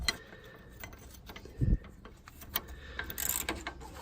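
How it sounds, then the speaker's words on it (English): A suspension bolt on a Jeep XJ is unthreaded with a ratchet, giving quick irregular clicks and metallic ticks, close and fairly quiet, with a duller knock midway and a short scraping burst near the end. "This is the first bolt in the suspension that's actually unthreading."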